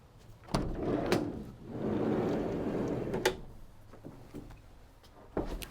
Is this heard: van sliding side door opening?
yes